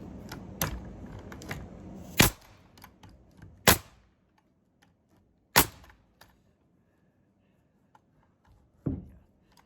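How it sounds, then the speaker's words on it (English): Several sharp, loud bangs from a pneumatic framing nailer fire at irregular intervals, each a quick percussive crack with a brief tail, separated by quieter gaps of shop noise. "go get my framing nailer and start making noise with it"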